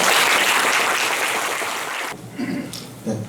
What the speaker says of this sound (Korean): 네, 자리에 큰 박수로 모시겠습니다.